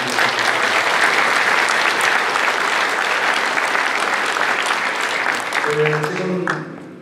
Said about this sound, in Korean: 감사의 박수 드립니다